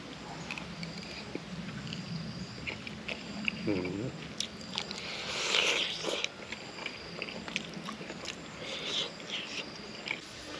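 Someone eats catfish boiled in fermented fish sauce, with close, intermittent bites and wet chewing and a voice murmuring in the background.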